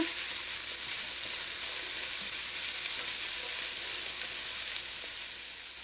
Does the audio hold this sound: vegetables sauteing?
yes